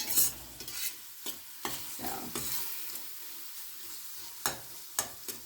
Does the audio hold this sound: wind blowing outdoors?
no